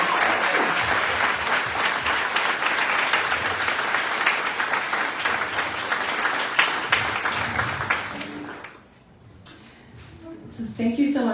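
Audience applause at a top teachers awards ceremony, a steady dense clapping that fills the room for about eight seconds, dips briefly, then swells again near the end.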